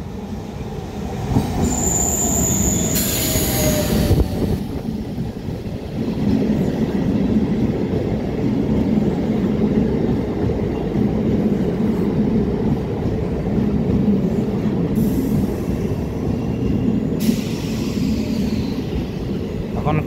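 Local passenger train at a station platform, its wheels squealing and a steady rumble of wagons rolling past, loud and continuous with brief high screeches throughout.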